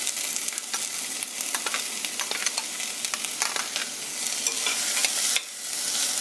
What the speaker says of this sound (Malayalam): നമുക്ക് ഈ ഒരു സവാള, വലിയ സവാളയാണ്, ഇത് അരിഞ്ഞത് ഇട്ട് കൊടുക്കാം